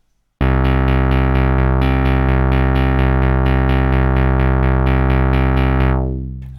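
A Strobe2 synthesizer plays a steady run of sustained retro notes, each slightly varied by random modulation, loud and clean with short gaps between repeated pulses before fading out at the end.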